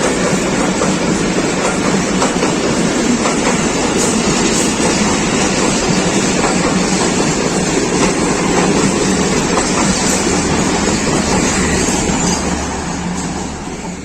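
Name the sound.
Pakistan Railways train crossing at speed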